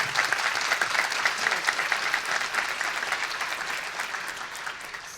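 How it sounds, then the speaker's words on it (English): An audience at a Latina History Day panel breaks into dense, lively clapping that stays strong before slowly easing off. "So big round of applause"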